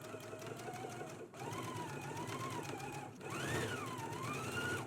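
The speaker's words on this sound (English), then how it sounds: "Let's go ahead and stitch the sleeve in place now." A domestic sewing machine stitches a sleeve into a dress, running steadily with a fast, even mechanical whir and rising pitch changes as speed varies, close and clear with a brief pause between runs.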